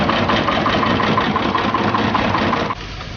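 A tractor engine idles close and loud, a steady, rough mechanical chug with a knocking pulse that drops suddenly in level near the end, with no talk over it.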